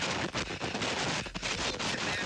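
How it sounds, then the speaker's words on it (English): A stash of fireworks explodes beside a launch pad in a dense, continuous crackling barrage of rapid bangs and pops, loud and close, with no voices over it. "Maybe it was a bad idea to keep the fireworks stash so close to the launch pad"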